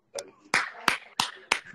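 Scattered hand claps from a few participants heard over open microphones in an online training session, five sharp separate claps in an uneven rhythm, close and clear.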